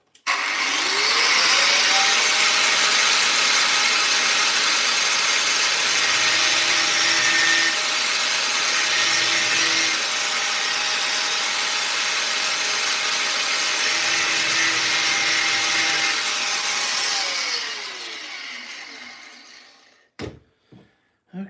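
A power tool grinds out a stripped screw head, a steady loud whine running close and continuous for about seventeen seconds with slight shifts in pitch, then cutting off and followed by a few scattered knocks.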